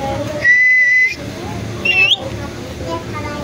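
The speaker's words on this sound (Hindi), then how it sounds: "मिट्टू सीटी बजाओ" A pet parrot whistles on command indoors: two clear, piercing whistles, a steady tone followed by a short rising one, sounding close and loud amid room noise and a person talking.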